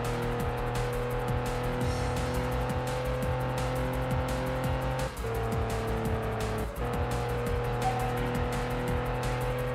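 Cars racing in Test Drive Unlimited on PS2, a constant droning engine roar with layered tones, tire noise and brief gear-shift dips, loud and unbroken.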